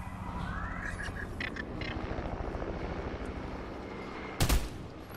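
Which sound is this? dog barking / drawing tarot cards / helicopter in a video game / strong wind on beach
helicopter in a video game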